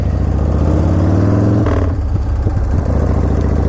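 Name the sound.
custom motorcycle starting off on a test drive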